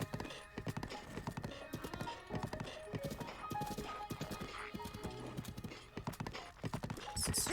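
A horse climbs a slope in The Legend of Zelda: Breath of the Wild, its hooves clip-clopping in a rapid, steady rhythm throughout, with an occasional snort and a faint musical background.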